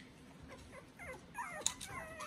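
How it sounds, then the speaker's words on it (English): Young puppies whimpering and yipping during play, several thin high whines and squeaks close by, fairly quiet, with no speech. "Lots of puppy play."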